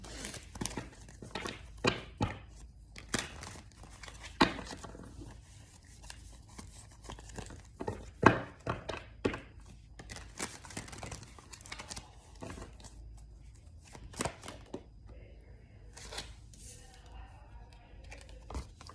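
Tarot cards are shuffled and riffled in a steady run of crisp flicks and soft papery slaps, close and fairly quiet, with occasional faint talking between bursts.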